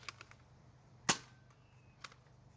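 A Nerf blaster fires a single Mega dart at an outdoor range, one sharp loud snap at the center, followed by a fainter click afterward and a few soft taps early on.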